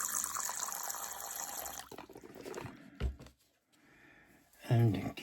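Water poured to fill a small container inside a spider terrarium freshly packed with moss, a close splashing trickle over the first two seconds, then quieter handling noises and a short louder burst near the end.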